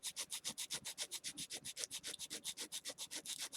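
Steady rhythmic sanding of a wooden domino, quick back-and-forth strokes repeating evenly and close up, with no talking.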